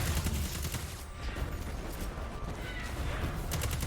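Sustained auto rifle fire in the sci-fi shooter Destiny, a dense, continuous stream of rapid shots layered with impacts and battle noise, steady and loud throughout with no pauses.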